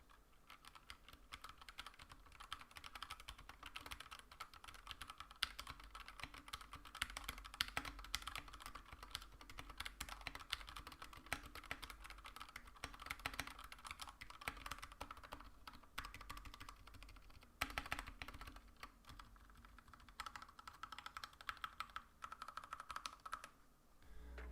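Steady, continuous typing on an Anne Pro 2 60% wireless mechanical keyboard with Gateron Red linear switches, a dense patter of muted clacks at close range with no talking.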